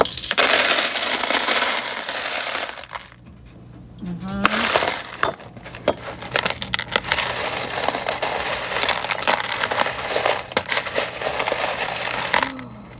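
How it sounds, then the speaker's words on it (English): Buttons, including celluloid and barrel-shaped ones, are handled and sorted, giving bursts of small, close clicks and clinks with a brief quieter pause partway through. "All right, button ASMR. Here we go."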